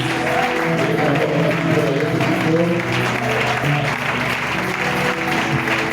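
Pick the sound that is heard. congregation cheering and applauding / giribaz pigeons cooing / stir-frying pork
congregation cheering and applauding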